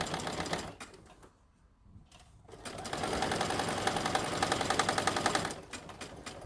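A sewing machine runs through fabric for a tote bag, a fast close mechanical rattle that stops briefly for a near-silent gap, then resumes longer and louder before easing off.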